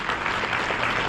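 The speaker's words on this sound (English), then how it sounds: "Yeah, big round of applause, thank you." Steady audience applause fills the whole clip at a Tubachristmas holiday concert in Carrollton, Georgia, dense and even, with no voice on top.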